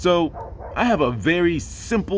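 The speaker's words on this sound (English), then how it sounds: "Sorry if you can hear the dogs barking. There's a dog park right there." Dogs barking at a nearby dog park, short yips and barks mixed beneath a person talking close up throughout.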